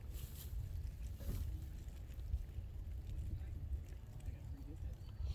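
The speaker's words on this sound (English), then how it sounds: "And the wind is just so strong, I mean, it's destroying us." Strong wind at an outdoor bushcraft gathering in central Kentucky, a low continuous rumble buffeting the microphone, with quiet voices talking beneath it.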